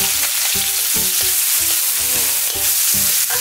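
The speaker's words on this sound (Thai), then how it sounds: "ใส่ พริกกระเทียม จะเอาลงไปเลยครับ" Chopped chili and garlic hitting hot oil in a pan over medium heat for Thai basil stir-fry with shrimp, a loud continuous sizzle broken by rhythmic scraping strokes of a spatula, close up with no voices.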